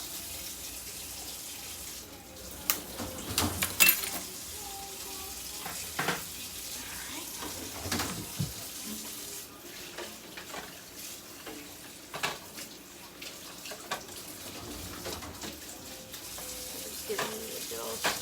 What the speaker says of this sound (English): Just giving it a good old stir.